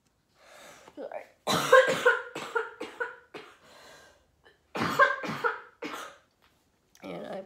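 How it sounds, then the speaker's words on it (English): Repeated bursts of harsh coughing, several in quick clusters with short pauses between, close and fairly loud, no other sound around them. "Apologize for coughing my head off."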